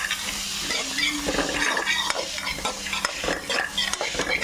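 Onions sizzle in hot oil while a spoon stirs them in a pan, giving a steady close frying hiss broken by scraping strokes of the utensil against the metal.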